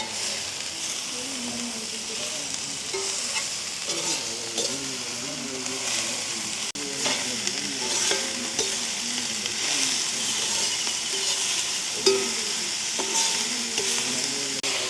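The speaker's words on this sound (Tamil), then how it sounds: "லீக்ஸ் தான் எங்களுக்கு வதங்கப்படும்" Chopped leeks sautéing in a pan in a village kitchen, a steady sizzle and frying hiss running throughout with occasional stirring scrapes, close and moderately loud, with no speech.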